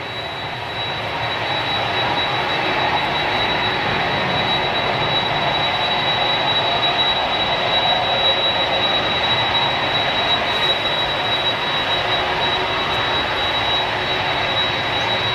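A Boeing Dreamliner airliner touches down at Manchester Airport, a steady jet engine roar rising in the first seconds and then holding level and fairly close, with a thin high whine running through it and no talk.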